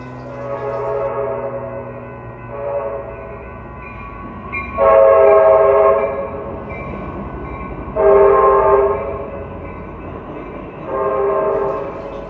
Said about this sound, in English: The next train we have to see is the Amtrak Capital Corridor